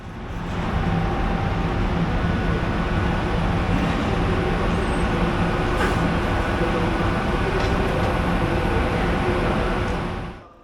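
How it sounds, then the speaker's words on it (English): A Ganz-built Hungarian V43 locomotive hauls a passenger train out of a Budapest terminus toward Szeged, heard from inside the carriage as a steady, loud rumble of wheels and running gear that holds evenly throughout. "a locomotive is attached to the rear in order to pull us out towards Szeged"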